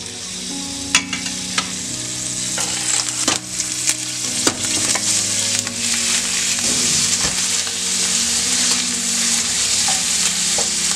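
Pork sizzles and fries in hot oil inside a heated clay cazuela, a steady loud crackle with frequent sharp stirring clacks and scrapes spread across the whole stretch, no voices.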